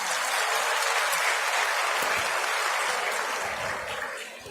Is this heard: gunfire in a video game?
no